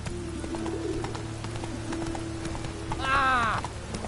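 Roach the horse gallops in The Witcher 3, its hoofbeats a quick steady patter under a sustained background tone, with a short high wavering call near the end.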